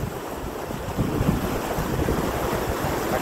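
Water from a pond rushes out toward a river at low tide through a sluice as the pond is drained to catch mullet, a loud, continuous gushing roar close to the microphone with wind noise and no speech.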